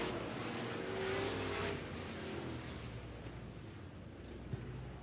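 Sportmod race cars circling turns one and two at Eagle Raceway, a steady engine roar at middle distance that swells briefly and then settles into a continuous drone, with no talk over it.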